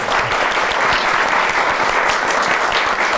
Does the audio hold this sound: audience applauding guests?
yes